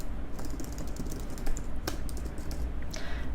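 Typing on a computer keyboard in a font preview box, a quick run of fairly close, clicky keystrokes that come in uneven bursts with no speech.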